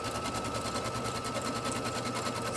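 An embroidery machine stitches a quilt block for a wall hanging, giving a loud, continuous, rapid rhythmic hum up close, with no talking.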